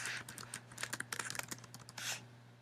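Quiet typing on a computer keyboard, a steady patter of light key clicks over a faint electrical hum, with no talking.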